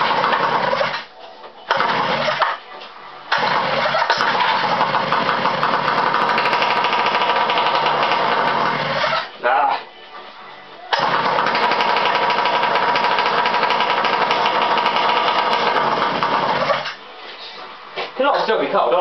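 A motorized bike engine is cold-started in several loud bursts: short sputtering attempts with brief silences between them, then long stretches of harsh running that cut out and restart, heard up close.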